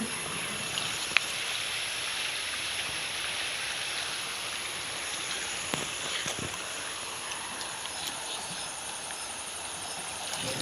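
A river swollen after rain flows steadily nearby, a constant broadband rushing with a couple of faint clicks and no talk.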